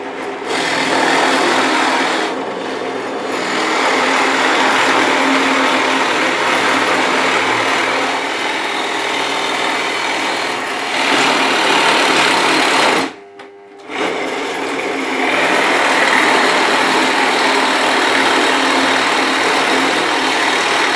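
A Scheppach DP16VLS drill press runs and drills, a loud, continuous motor whir with a steady buzzing tone. It holds constant for about twenty seconds apart from a brief dip and one short pause near the end.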